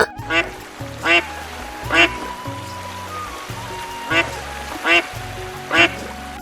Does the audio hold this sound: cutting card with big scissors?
no